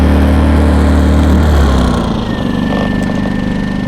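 An emergency power generator drones loudly and steadily, then settles into a lower, quieter hum as it drops to its economy level, running on with no talk.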